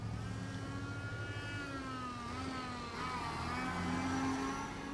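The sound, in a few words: cars racing down street, video game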